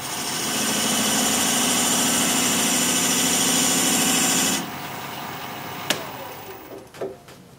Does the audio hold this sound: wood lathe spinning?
yes